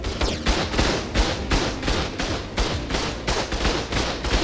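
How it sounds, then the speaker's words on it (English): Turrets in ARK Survival Ascended on Scorched Earth fire at an alpha Wyvern, a steady rhythm of loud, close repeated shots roughly every third of a second, continuous throughout without speech. "I'm shooting it. Turrets, come on."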